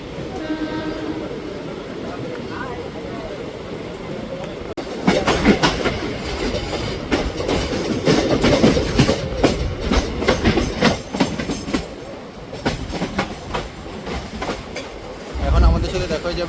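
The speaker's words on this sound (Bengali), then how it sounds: "ট্রেন আমাদের ছেড়ে যাচ্ছে মল্লারপুর স্টেশন" The Ganadevta Express pulls out of Mallarpur station with a steady rumble and rhythmic clickety-clack of wheels on rail joints, loud and continuous, swelling briefly near the end.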